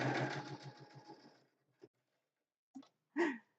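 A sewing machine stitches a straight seam with a quiet, steady, rapid whirring pulse for about a second and a half, then stops, followed by a few brief soft knocks and shuffles.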